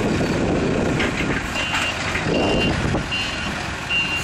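Forklifts unloading big tyres from a truck sound repeated high reversing beeps over a loud, steady diesel engine rumble, with brief clanks and hiss nearby.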